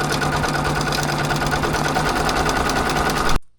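Sewing machine stitching steadily at close range, a continuous fast mechanical whirr with rapid repetitive ticking that runs loud and even for over three seconds before stopping abruptly, no voices.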